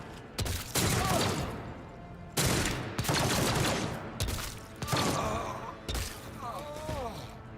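Imperial Guard traitors firing in a video game battle: several loud broadband gunshot bursts at irregular intervals, with a few short wavering cries between them and no speech.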